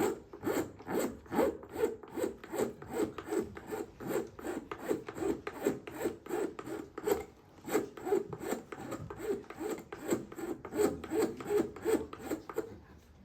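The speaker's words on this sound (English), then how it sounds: "I just created some fine bamboo dust" Piece of bamboo filed into fine dust during shakuhachi flute repair, with rapid, steady rasping strokes repeated close up for over ten seconds.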